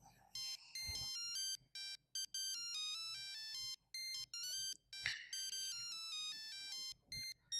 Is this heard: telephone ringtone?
yes